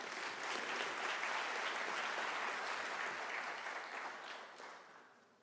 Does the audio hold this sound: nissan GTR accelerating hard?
no